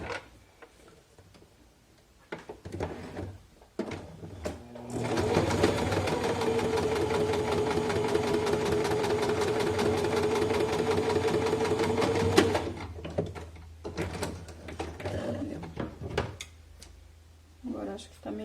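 A sewing machine stitches steadily around a fabric coin purse for several seconds, a close, continuous rapid whir, with handling noises before and after.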